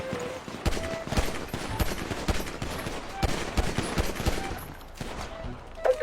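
Rapid video game gunfire bursts in a shooter, dense overlapping shots and fusillades filling the whole stretch with loud, repeated cracks, a few faint voices underneath.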